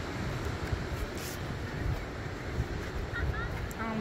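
Steady wind buffets the microphone with a constant rumbling roar, broadband and fairly loud, with faint chirpy sounds near the end.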